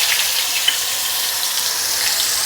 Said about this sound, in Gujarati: હવે એ જ તેલમાં અડધી ચમચી રાઈ, અડધી ચમચી જીરું અને એની સાથે જ 5 થી 6 કળી લસણ, 2 લીલા મરચાં અને એક આદુના ટુકડાની પેસ્ટ ઉમેરી દઈશું